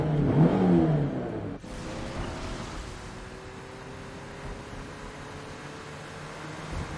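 Car hero Johnson racing in the Mobile Legends game, a steady whirring engine drone with a loud rush at the start that then settles into an even hum.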